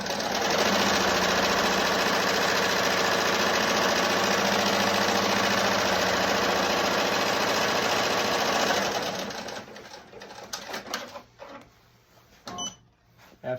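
An embroidery machine runs the tack-down stitch on a patch, a steady fast mechanical chatter that goes on for about nine seconds before stopping, followed by a few scattered clicks and light handling noises.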